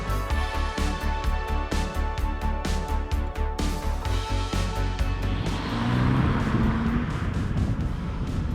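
A Saab 900 Turbo Carlsson car's engine pulses in a steady, loud rhythm from inside the cabin, then gives way to a broader rush of road and wind noise as it drives on.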